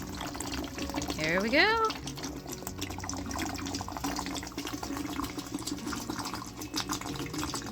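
Water drains through an aquarium gravel cleaner hose, a steady close trickle and gurgle throughout, with a person speaking briefly over it.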